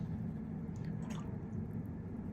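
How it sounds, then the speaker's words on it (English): A watercolor paintbrush is swished and rinsed in a water jar, producing quiet, close squishing and dripping sounds over a couple of seconds with no talking. "So just rinsing my brush."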